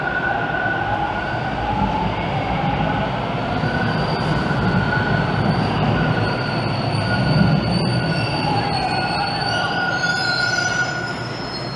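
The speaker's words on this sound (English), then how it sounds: "There appears to be a train rolling in right now." Subway train rolling into a Toronto station near Bloor West Village and High Park, a steady loud rumble of wheels on rails with high metallic squeals and whines running throughout, no talk.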